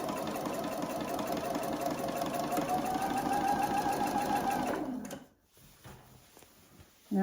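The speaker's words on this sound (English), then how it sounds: "Now I'm just sewing up the sides." A sewing machine stitches up the sides of a dress in a steady, fast, whirring run for about five seconds, then stops, leaving a few quiet clicks and handling noises.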